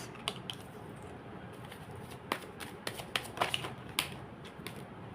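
Tarot cards are drawn and shuffled in a quiet room, giving a string of soft, quick papery flicks and snaps spread across the clip over a low background hiss.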